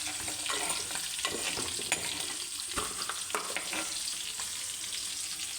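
Turmeric powder frying in oil for a fish curry makes a constant bright sizzle with faint stirring scrapes, close and moderately loud, with no voices.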